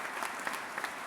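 Applause from the audience at the 2017 Vermont governor's inaugural address, a steady wash of clapping with a few sharper claps standing out, with no talking.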